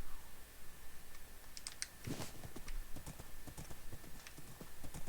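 A horse gallops in the Minecraft video game, with rapid, faint clip-clop hoofbeats in an even rhythm alongside soft clicking, with no talking.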